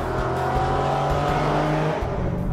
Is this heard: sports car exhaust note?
yes